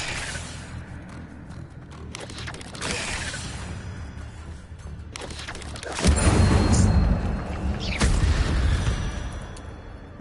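The Incendio fire spell in Hogwarts Legacy, heard as several whooshing bursts and booming flares of flame, with a louder sustained roar in the second half over game ambience.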